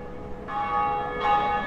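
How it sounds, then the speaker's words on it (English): A church bell in Dark Souls tolls twice, each strike ringing out clearly with a long resonant hum over a faint background ambience. "ringing this bell is pointless"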